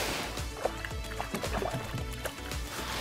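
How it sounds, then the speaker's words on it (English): Fish tossed back into the water from a kayak, making close, irregular splashes and sloshing that run for a few seconds without anyone speaking. "I'm gonna toss them back in the water."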